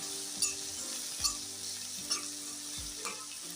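Onions fry in a pan for sev dungri shaak, giving a soft, steady sizzle with four evenly spaced clinks of a spoon stirring against the pan.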